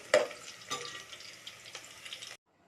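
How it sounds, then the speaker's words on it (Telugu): Onions roasting in oil until brownish for a hotel-style chicken curry, with soft, steady frying crackle and a few sharper stirring clatters across the pan, fairly quiet and close, with no talk. "మనం ఆనియన్స్ అనేది ఇట్లా రోస్ట్ చేసుకుంటున్నాము ఆయిల్లో"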